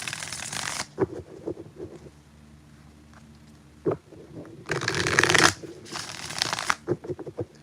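Tarot cards shuffled by hand in several bursts, crisp riffling flutters close up separated by soft taps and handling noises, the longest burst near the end.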